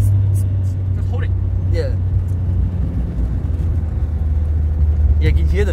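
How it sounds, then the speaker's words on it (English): A Toyota AE86 transmission downshifts, heard from inside the car as a constant low engine drone with small shifts in pitch. "you can hear the transmission like as it's downshifting"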